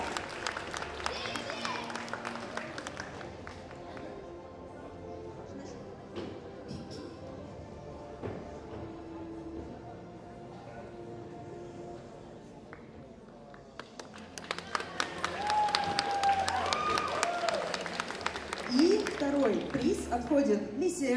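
Audience applause at a cosplay award ceremony, heard as patchy clapping that fades under a presenter talking, then swells again into louder, fuller applause with cheering voices toward the end.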